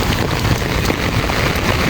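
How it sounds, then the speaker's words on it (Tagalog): Heavy downpour at Burnham Park in Baguio, a loud, dense and constant hiss of rain hitting surfaces, mixed with wind buffeting the microphone and no speech. "Lakas ng ulan. Napakalakas actually."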